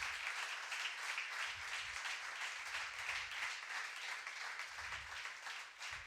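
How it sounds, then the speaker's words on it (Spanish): A church congregation applauding during a sermon, a steady, fairly faint wash of many hands clapping that continues evenly for several seconds with no voices over it. "Dale un aplauso a él si lo crees."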